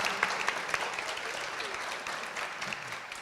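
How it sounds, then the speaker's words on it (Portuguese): Audience applause at a talk on affirmative policies for women in publishing and music, a steady wash of many hands clapping at moderate distance, no voices over it. "Palmas para elas, gente."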